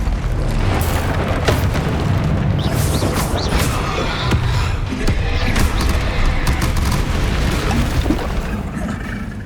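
Blasts of the Confringo explosive spell in the Hogwarts Legacy video game boom repeatedly within a loud, dense wash of combat effects, with whooshing bursts and sharp impacts scattered across the stretch and no pause.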